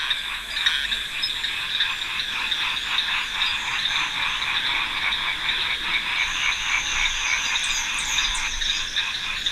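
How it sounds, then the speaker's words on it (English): Frogs call in a Madagascar rainforest, a dense chorus of rapid rhythmic croaks and trills pulsing steadily and close, with higher chirps joining near the end. "More than 300 frog species occur in Madagascar, and the rainforests are hotbeds of diversity."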